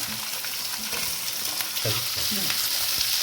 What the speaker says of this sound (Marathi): आणि ह्या लसणाच्या पाकळ्या टाकून घेते कट केलेल्या बघा